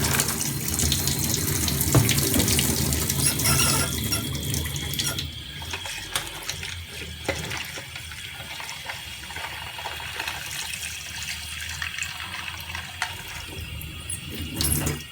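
Hot water runs steadily from a kitchen tap into a sink while plastic toy parts are washed with detergent in a bowl, a loud continuous gush that eases slightly partway through.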